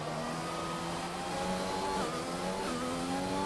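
An F1 video game car on a hot lap at Zandvoort, DRS open down the back straight, whines steadily upward in pitch, with brief dips at gear changes and no talk.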